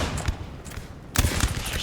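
Musket firing lines crackle in rolling volleys across a battlefield in the video game Napoleon Total War 3, with bursts of sharp overlapping shots near the start and again more strongly after a brief lull.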